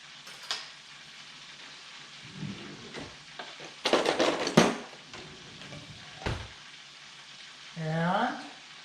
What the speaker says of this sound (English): before I sauce, give it a little stir.